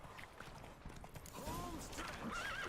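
Geralt's horse Roach in The Witcher 3 whinnies during a gallop, with a rising neigh over rhythmic hoof clatter and creaking tack, moderately loud and close.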